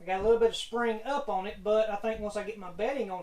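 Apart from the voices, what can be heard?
No everyday noise stands out behind the speech.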